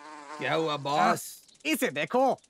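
A small cartoon insect buzzes in a children's animated story, a short bright drone heard close while cartoon voices talk over and around it.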